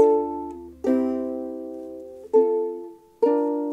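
Ukulele strummed in a soft chord pattern while learning a song, with four distinct strums each left to ring out and fade, close and clear with no voices.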